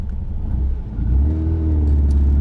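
A 1951 Volkswagen Beetle split window slows under braking, its engine rumbling loud and close with a low steady drone that settles as the car decelerates.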